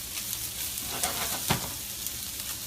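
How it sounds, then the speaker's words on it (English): Bacon and mushrooms frying together in grease for a cream sauce pasta, stirred in the pan with a steady crackling sizzle and a few soft scraping knocks. "Now these are going to cook all together. You stir it up so the grease coats them."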